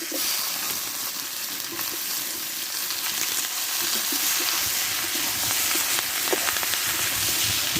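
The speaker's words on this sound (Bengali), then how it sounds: "ধুয়ে ধুয়ে রাখা আমি ঝিঙেটাকে দিয়ে দেবো দিয়ে এবার আমি একই সঙ্গে পুঁই শাকটাও আমি দিয়ে একটু কষে নেবো" Ridge gourd and Malabar spinach stir-frying together in a pan, giving a dense, even sizzle and hiss that runs throughout with faint scraping of stirring underneath, close up and without speech.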